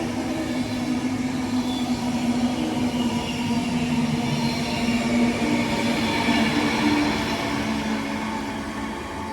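A train rolls steadily through Bletchley railway station, its rumble and wheel noise loud and constant with a sustained tonal hum, fading slightly toward the end; no talk.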